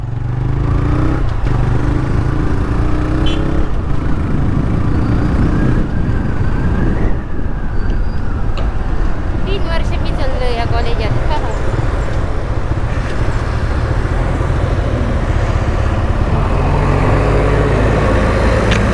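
Steady roar of road traffic surrounds a motorbike rider stuck briefly at the SRM college junction in Kudal, Konkan, with engine drone and wind noise throughout and nearby vehicles passing loudly.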